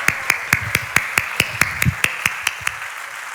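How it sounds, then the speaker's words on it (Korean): A church congregation claps together in a fast, even rhythm to welcome a preacher, about four crisp claps a second, steady and fairly close. "여러분 뜨거운 박수로 할렐루야로 맞아주시기 바랍니다"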